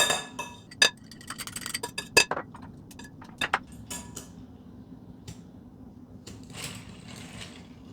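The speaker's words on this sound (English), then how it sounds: "I'm going to just cut it into a few more pieces and put it in the bowl with the sugar" Butter being cut into pieces and dropped into a bowl with sugar for a breakfast cake: several sharp knife clicks and clinks against the bowl in the first few seconds, then quieter scraping and faint clatter.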